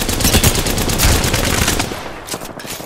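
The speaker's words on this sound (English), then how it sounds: "I'm spotted. Taking fire." Gunfire in Apex Legends: dense, rapid bursts of shots close and loud, tapering off toward the end, no voices.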